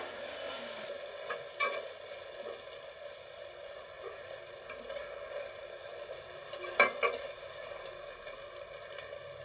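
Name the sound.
stirring coriander and mint into tomato rice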